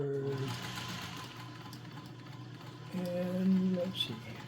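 A Singer 301 sewing machine stitching forward, a quiet whirring hum with rhythmic mechanical clatter, briefly starting up again near the end, while a person talks over it.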